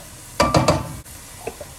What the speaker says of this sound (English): Add in our celery.